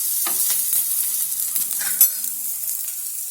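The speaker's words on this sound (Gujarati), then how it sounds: "હવે એને આપણે પલટાવી નાખશું." Millet thalipeeth flatbread sizzling on a hot griddle after being flipped, a steady close frying hiss broken by a few soft scraping and tapping touches of a spatula.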